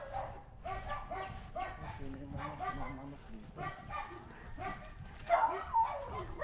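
Several dogs bark and yip from houses in a rural Philippine village, a string of repeated barks at a moderate distance while someone talks over them.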